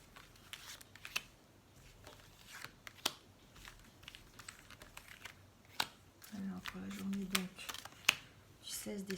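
Tarot cards shuffle and snap in quick crisp bursts before a nine-card spread is laid out, close and light, with soft talking underneath.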